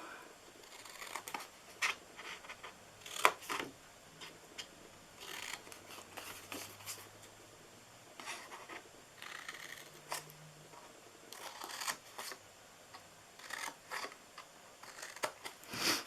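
Scissors snipping through paper cardstock while trimming pieces for a St. Patrick's Day flip top box, with a series of short, close, crisp cuts and crinkles repeating irregularly, no talking.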